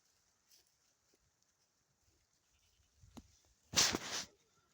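Goats on a farm, including Nigerian dwarf stock, stay mostly quiet apart from faint shuffling, then one loud, harsh bleat rings out close by near the end.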